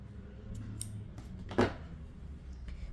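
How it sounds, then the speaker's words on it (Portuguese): Scissors snip crochet yarn once, a single sharp close cut standing out against quiet room noise, with a few faint handling clicks around it. "você vai fazer uma corrente, separar um pouco de fio e cortar"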